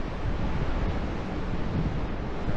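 Ocean waves wash against rocks below a cliff, a steady broad roar mixed with wind buffeting the microphone, continuous and fairly loud with no voices.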